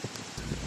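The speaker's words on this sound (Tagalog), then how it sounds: "Ramdam ang bagsik ng hangin at ulan." Rain and gusting wind from Typhoon Opong in Romblon, a dense, steady hiss of downpour with rushing air, faint and continuous for under a second.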